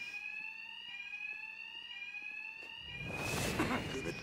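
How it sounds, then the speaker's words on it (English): A bank alarm rings in the video game Batman Arkham Knight. It is a steady, piercing electronic tone that drones continuously, and a loud rush of noise swells over it toward the end. "Two-Face's thugs won't hear me over the alarm."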